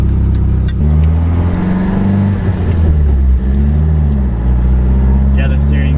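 A Nissan S13 with an SR20 engine that is not running well, driving with a steady mid-range engine drone and a shifting pitch. People talk over the engine noise.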